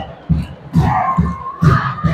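A football crowd at a Roraima state championship final between São Raimundo and Real chants in rhythmic shouts, with repeated loud, regular bursts of voices echoing through the stadium.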